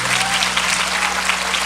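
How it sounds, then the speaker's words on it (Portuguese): Audience applause for the speakers at a church family-week event, dense and sustained clapping that is loud and continuous throughout. "Uma salva de palmas para nossos preleitores"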